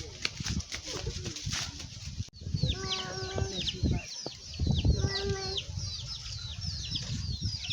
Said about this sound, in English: this is chicken